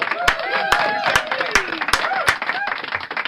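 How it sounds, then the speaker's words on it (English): Squad members of an Adelaide soccer club clap their hands in sharp, spaced claps, about six across a few seconds, heard close and loud beneath a busy background of overlapping crowd chatter. "we've got to clap the hands here."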